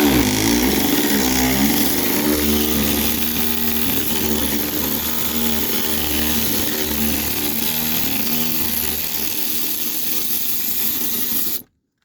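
Impact gun straining against rusty bolts during a starter replacement on a 2010 Mazda 3, a loud continuous buzzing, rattling whir held steadily for about eleven seconds before cutting off abruptly.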